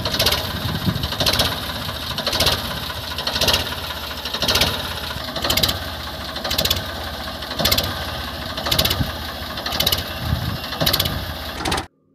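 A modified 1991 Ford 3600 tractor engine runs steadily close by, with a rhythmic knocking pulse repeating about every second and a half under a constant mechanical drone before cutting off at the end.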